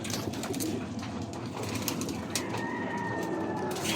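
Pigeons coo softly outdoors in a steady, low murmur, with faint background noise and a thin distant tone that rises toward the end.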